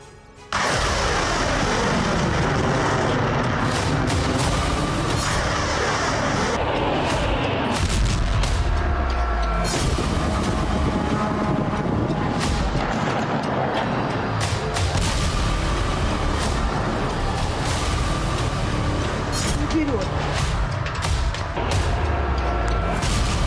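Explosions during the war in Kyiv, a dense barrage of booms, cracks and rumbling blasts in quick irregular succession under a continuous noisy wash, loud and unbroken throughout.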